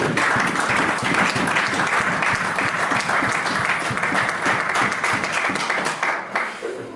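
A church congregation breaks into sustained applause, dense steady clapping filling the room at a loud level, thinning slightly near the end.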